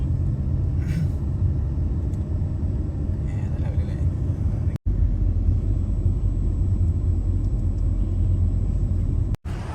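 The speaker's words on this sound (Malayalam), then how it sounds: "സ്റ്റോക്കിലുള്ള ഒരു മുഴക്കാണ് കേട്ടോ എക്സോസ്റ്റ് ഒന്നും ചെയ്തില്ല" A stock Corvette C8 with an unmodified exhaust gives a steady, deep low rumble, loud and close, holding evenly for about ten seconds.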